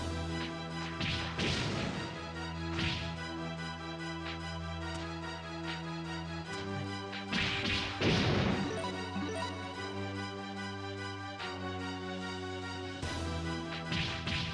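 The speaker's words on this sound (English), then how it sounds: "Flashbang." In the PSP game Growlanser, a flashbang skill sounds several whip-like cracks and crashing impacts over a continuous droning background score, loud and layered.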